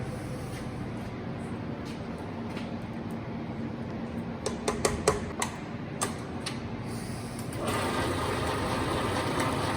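A stand mixer creaming butter and sugar for panettone, a steady motor whir and churning drone with a few sharp clicks and knocks midway, the pitch rising and running louder near the end.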